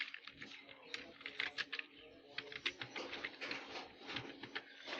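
Fingers tap a computer keyboard to type a folder name, a quick, close run of light clicks in uneven bursts with short pauses between.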